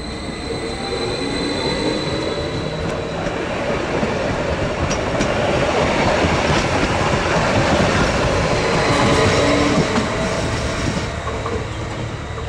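A train runs on the remaining section of the old 150 line between Ferencváros and Délegyháza, giving a steady, close rumble of wheels on rails with faint squeals and clatter throughout.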